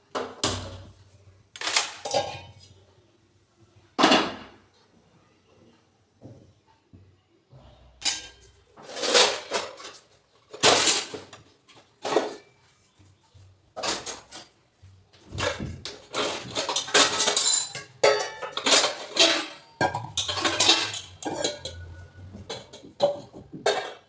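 Washing dishes, pots and pans at home, with scattered close clinks, scrapes and clatters of utensils and vessels in irregular bursts, separated by quiet pauses and growing busier toward the end.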